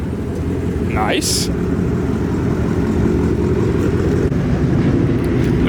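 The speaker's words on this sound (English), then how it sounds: "We got a Boss 302 rolling in." Ford Mustang Boss 302 arriving at a car meet, its engine a loud, steady rumble throughout with a brief high squeal early on, while a voice speaks over it.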